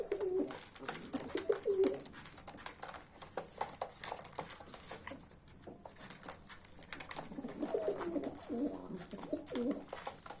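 Young pigeons coo in low, throaty bursts among a busy flock at feed, with wings flapping and soft pattering close by.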